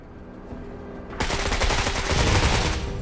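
Sustained burst of heavy gunfire in the MENACE tactics video game, erupting after a quieter moment and continuing loud and dense for about two seconds with no talk.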